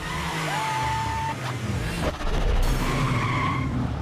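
A stolen sports car in a film scene skids with tires squealing over a roaring engine, the screech rising and sweeping through several seconds amid loud, busy action noise.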